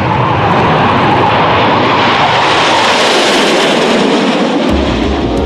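Loud, continuous roar of a MiG-17F jet fighter with an afterburner-equipped engine, a steady broadband rush that swells slightly and holds throughout, close and powerful with no voices.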